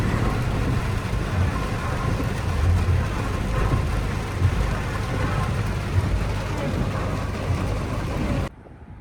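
Heavy rain pours down on a road in Canada, a dense, loud, unbroken hiss with low traffic rumble underneath, cutting off abruptly just before the end.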